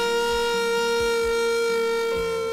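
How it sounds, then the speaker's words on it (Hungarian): Civil defense style siren wailing loud and steady, a sustained tone with harmonics droning continuously, sounded as a fire alarm at a volunteer fire station during an annual general meeting. "az éves közgyűlésük közben szólalt meg a sziréna"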